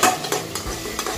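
Spices, salt and chillies stir-fried in a pan for matar pulao: a steady close sizzle with repeated scraping strokes of a spoon stirring the pan.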